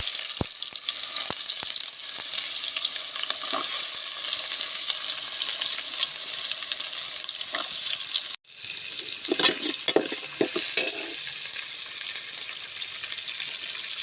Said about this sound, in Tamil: நல்லா கடுகு, வெந்தயம் பொரிஞ்சதும் இப்போ நம்ம வெங்காயத்தை போட்டுக்கலாம்.